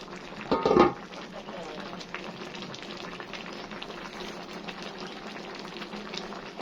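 Potato tray with tomatoes and chili simmering on a gas stovetop, a steady soft bubbling and sizzling that continues throughout, with a brief louder clatter near the start.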